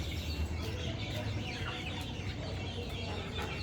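Native deshi chickens, including young birds, cluck softly on a poultry farm in cold December weather, with scattered low calls over a quiet background and no talking.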